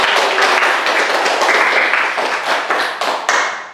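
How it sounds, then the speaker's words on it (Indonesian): A classroom group bursts into applause, a dense patter of many hands clapping close by, fading and thinning toward the end with a few scattered last claps. "Beri aplaus untuk kita semua"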